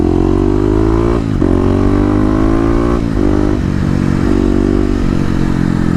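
A Kawasaki KLX250 dirt bike accelerating hard, its engine note rising through several gear changes with brief dips between, loud and close throughout.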